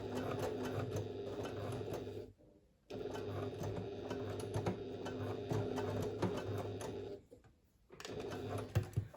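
A sewing machine stitches the lining bag of a fabric pouch in steady, continuous runs, with two short pauses where the motor stops before it starts up again.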